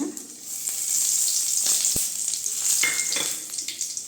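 Cinnamon, cloves and curry leaves crackle and sizzle in hot oil in a heated kadai, a steady close hiss with a few sharp pops and a single crisp tick midway, no voices.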